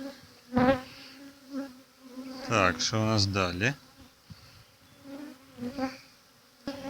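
Honeybees buzzing steadily around a hive in a low drone close by, with someone speaking briefly over the hum.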